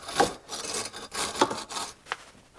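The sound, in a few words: sharpening a lawn mower blade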